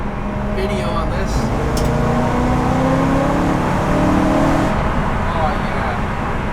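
A gutted BMW E92 M3 track build on a test drive fills the clip with a steady, loud engine drone and road roar from inside the stripped cabin. The whirring hum holds constant with slight shifts in pitch.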